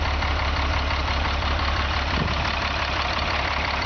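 A Freightliner grain truck's diesel engine idles with a steady, low rumble, heard continuously and close by at the engine compartment, with an even mechanical drone throughout and no voices.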